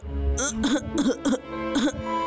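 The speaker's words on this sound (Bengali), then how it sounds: "বুঝতে পারছি না হঠাৎ এত কাশি পাচ্ছে কেন।" A string of rough, throaty coughs close up, four or five in quick bursts with brief pauses, over a low steady background hum.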